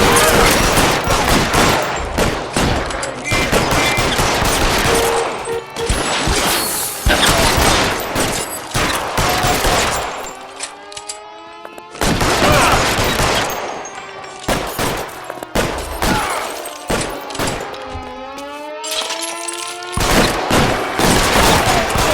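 Heavy bursts of gunfire in the detective video game L.A. Noire, shots cracking rapidly in clusters with brief pauses, interspersed with shouted voices and occasional booming impacts.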